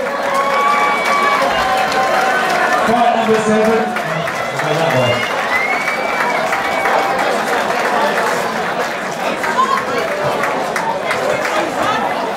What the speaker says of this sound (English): Ladies and gentlemen, give a round of applause for both Liam and Tom.